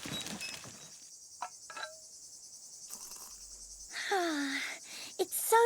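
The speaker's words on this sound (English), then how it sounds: "Just us and the sound of crickets" Steady high-pitched cricket chirring fills a quiet animated scene, with a few soft noises and a brief voice-like sound near the end.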